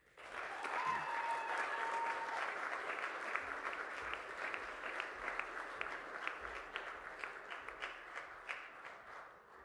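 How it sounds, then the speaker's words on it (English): An audience at an 8th grade graduation breaks into loud applause, a dense wash of many hands clapping that gradually thins into more distinct individual claps toward the end. "With a large round of applause, please welcome our speaker, Mr. Cook."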